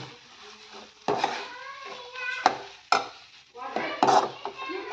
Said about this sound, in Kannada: ಫೈನಲ್ ಆಗಿ ಇದನ್ನು ಸ್ವಲ್ಪ ತೆಂಗಿನಕಾಯಿ ಹಾಕೋಣ. ಎಲ್ಲ ಮಿಕ್ಸ್ ಮಾಡಿ